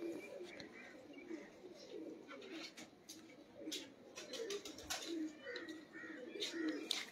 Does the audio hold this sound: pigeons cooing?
yes